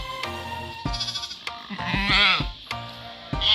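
Young Dorper lambs bleating on a farm, several loud, close wavering bleats in quick succession with short pauses between them, one call drawn out and quavering.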